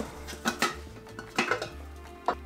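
Dishes being washed in a kitchen: irregular clinks and clatters of plates, pots and cutlery knocking together, close and moderately loud, over a low steady background hum with no talking.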